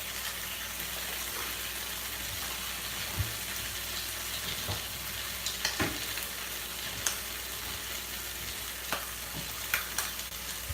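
Ham and eggs fry in a pan, giving a constant close sizzle with scattered small pops and crackles over about ten seconds, with no talking.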